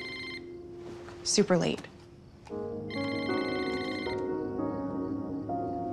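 A telephone rings late at night with repeated electronic tones, partly over a soft musical background, and a person speaks briefly in between.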